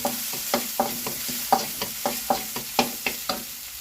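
Chili is stir-fried in a pan for seafood drunken spaghetti, a spatula scraping in quick, regular strokes about three per second over a light sizzle.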